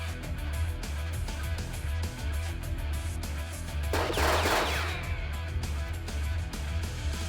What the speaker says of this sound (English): The gunshots echo even louder.